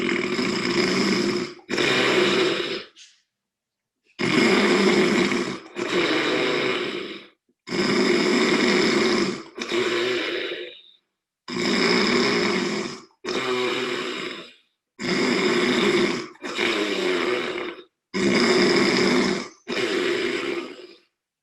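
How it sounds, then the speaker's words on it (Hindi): Ujjayi pranayama breathing during a yoga session, a harsh snoring-like throat rasp repeated in about eight long paired breaths, each inhale and exhale lasting a second or two, loud and close with brief silences between. "उज्जयी प्राणायाम आज खर्राटे वाली कर ले।"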